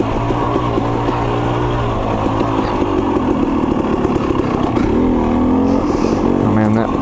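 A KTM 300 XC-W two-stroke dirt bike engine runs steadily on a wooded trail as the rider feathers the clutch, its note rising and wavering in loud, continuous revs up close.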